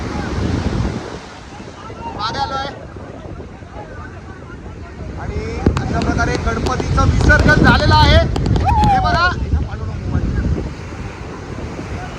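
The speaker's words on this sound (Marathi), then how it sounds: "मोठ्या लाटा" Big sea waves surge onto the Vengurla shore in Konkan during a Ganesh immersion, a swelling roar with strong wind buffeting the microphone while people shout and talk nearby.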